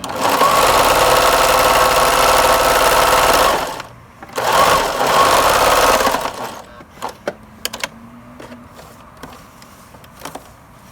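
A sewing machine stitches the edge of a fabric face mask in two loud, steady runs with a brief pause between, then stops, leaving a few light clicks and taps of handling.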